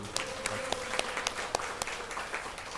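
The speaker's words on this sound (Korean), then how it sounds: "우리 바퍼에도 한번 박수" An audience at a church retreat gathering gives a round of applause, a dense steady wash of clapping with a few sharper claps standing out.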